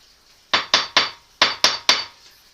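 A hammer strikes an anvil mounted on a tree trunk stand six times in two quick groups of three, each blow a sharp bright metallic clang with a short ringing decay, close and loud.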